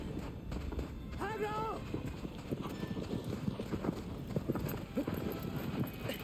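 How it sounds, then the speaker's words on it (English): Galloping horse hoofbeats from Shadow of the Colossus drum in a steady rapid rhythm at moderate loudness, with a brief whinny early on and game ambience underneath. "I hear him, but I don't see him."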